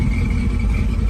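Steady close idle rumble from a 1973 Chevy Camaro V8 fitted with an Edelbrock carburetor, parked at a car show in Essex, Vermont, droning evenly and alone.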